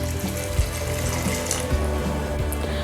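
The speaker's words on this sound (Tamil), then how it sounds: "இப்போ இது கூடவே தேங்காய் பால் சேர்த்துக்கிறேன்" Coconut milk poured into 400 g of soaked basmati rice for green peas pulao, a steady close liquid splash and trickle with faint kitchen clatter, no talking.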